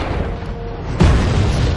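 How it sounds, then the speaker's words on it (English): A Gepard vehicle firing a shot in a video game, heard as a sudden loud boom at the midpoint over an already rumbling, noisy battle background that continues afterward. "he's going for another shot, this Geopard"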